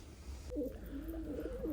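Soft, low coos from pet pigeons roll out in a close, gentle rhythm over a quiet background hum.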